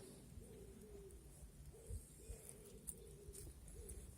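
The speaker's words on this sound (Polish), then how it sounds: "Gołębie gruchają." Pigeons on a rooftop coo in soft, repeated low phrases at a quiet distance, with faint outdoor background noise.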